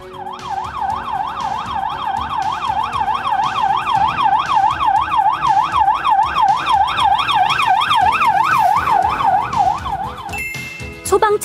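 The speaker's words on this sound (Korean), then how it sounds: "앰뷸런스 사이렌에서 동일하게 500Hz를 이렇게 켜놓고 오더라도" An ambulance siren wails loud and close in a fast, regular up-and-down sweep that repeats steadily for about ten seconds, then cuts off abruptly.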